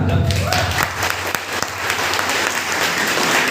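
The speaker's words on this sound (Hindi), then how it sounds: "कुछ लोग इतने कंजूस है कि ताली के मारने में डर रहे हैं" Sustained applause from an audience, dense clapping that carries on steadily for several seconds.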